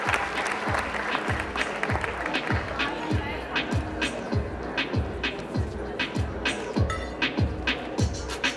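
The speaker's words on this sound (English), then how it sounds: "Big round of applause, ladies and gentlemen." Sustained audience applause at a sangeet celebration, dense steady clapping from a large crowd filling the room at even loudness throughout, with a voice briefly heard under it.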